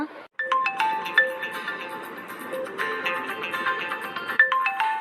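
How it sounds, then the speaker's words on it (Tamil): An electronic phone ringtone plays a bright repeating melody of tones in two clear bursts, loud and close, with no talk over it. "அதுக்குள்ளே ஃபோன் அடிக்குது"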